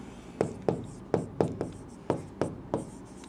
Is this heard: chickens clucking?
no